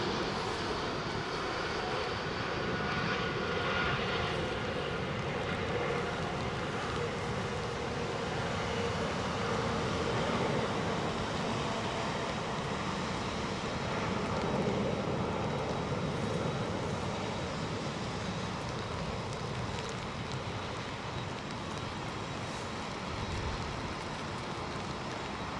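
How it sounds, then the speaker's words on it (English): Emirates freighter aircraft landing at London Heathrow, a continuous broad engine roar with no talk that holds steady throughout as the plane touches down. "Emirates freighter just touched down."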